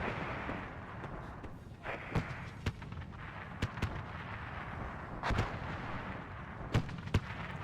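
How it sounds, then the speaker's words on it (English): Artillery fire in the WARNO Star Wars mod war game: repeated booming impacts and sharp cracks land irregularly over a constant rumbling battle background, some shots close and punchy, others more distant. "You guys see the artillery coming in"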